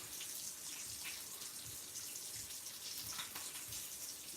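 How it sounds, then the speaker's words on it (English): Heavy whipping cream poured into a container for a keto recipe, a steady liquid pour heard close and alone, with no talking. "Pour that right on in."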